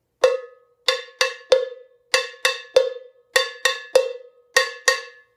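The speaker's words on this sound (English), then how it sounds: "I also clasp my hand closely against the cowbell to deaden the sound, otherwise it'll ring too much." A hand-held cowbell, muffled by a hand clasped against the metal, is struck in a syncopated pattern of about fifteen sharp, dry clanks. Each hit is close and loud, and the ring decays quickly.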